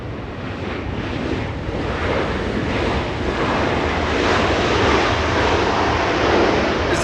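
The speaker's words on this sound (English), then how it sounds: "American Airlines coming into land" An American Airlines jet airliner coming in to land at Los Angeles International Airport, a steady broadband engine roar that swells slightly over several seconds, mixed with wind noise on the microphone.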